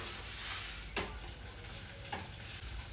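Dried red chillies, cut small, fry in a pan for a garlic amaranth stir-fry, giving a quiet, continuous sizzle broken by two brief stirring scrapes; no one talks.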